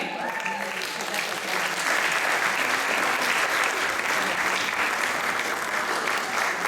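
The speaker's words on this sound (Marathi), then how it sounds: "जोरात टाळ्या झाल्या पाहिजेत तिच्यासाठी." An audience at a prize distribution for a junior Marathi light vocal singing competition breaks into loud, sustained applause, dense clapping from a crowd filling the hall, with a voice over the clapping early on.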